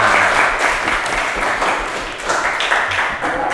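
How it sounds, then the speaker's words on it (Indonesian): A room full of people clapping steadily, a dense, even round of applause that holds for a few seconds without letting up. "Tepuk tangan dulu"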